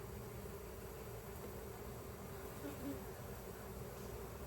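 Honeybees in an opened hive give off a faint, steady buzzing drone that stays even throughout, low in level with no talking over it.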